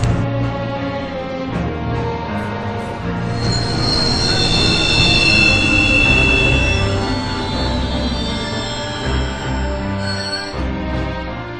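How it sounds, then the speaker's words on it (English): A train braking to a stop in Final Fantasy XV, a loud, sustained, high-pitched metallic wheel squeal over rumbling rail noise that swells in the middle and eases toward the end. "I bet he's behind the train stopping."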